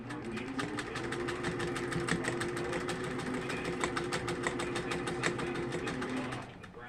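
Sewing machine running steadily as it stitches a straight seam on Victorian fan fabric, a close, continuous rapid needle clatter that stops near the end.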